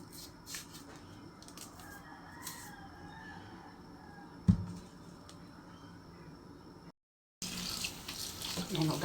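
A tap runs gently while pork is rinsed in a sink for nilaga, a soft, steady trickle with a sharp knock partway through and occasional voices. The sound cuts out briefly, then returns louder.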